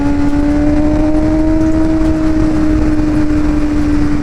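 A BMW M1000RR sportbike with a quick shifter rides at speed, its engine holding a loud, steady, close drone that sags slightly in pitch over four seconds.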